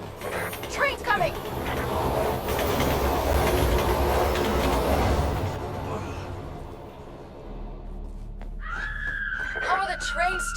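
A train rumbles and clatters loudly through a zombie-filled rail scene in the video game Resident Evil 6, its steady roar filling most of the clip before fading, with a voice talking over it.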